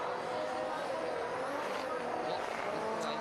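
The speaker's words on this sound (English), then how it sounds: "he's changed into this E92 BMW, a team with Koji Yamaguchi" An E92 BMW drift car runs at the D1 Grand Prix round at Okuibuki in 2023, its engine a steady loud roar across the track with crowd or commentary noise blended underneath throughout.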